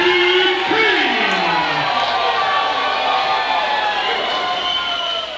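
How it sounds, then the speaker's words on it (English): A fight-night crowd at a local MMA event cheers for hometown fighters, a loud, steady roar of voices and whoops filling the hall throughout, with a rising whistle or shout near the start. "It's a crowd showing the hometown boys some love"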